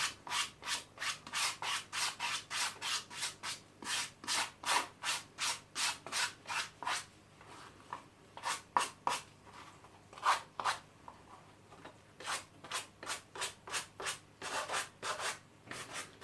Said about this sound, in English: the metal bristles for that are brilliant for just sort of just fluffing that back up again to make it look nice